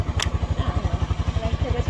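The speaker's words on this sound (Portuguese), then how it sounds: "Peguei a moto do primo." A cousin's motorcycle runs with a steady, pulsing low-frequency engine throb close by, with a brief sharp click near the start and faint voices in the background.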